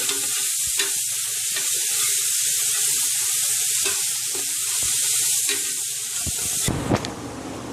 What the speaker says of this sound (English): we have to saute the onion till this level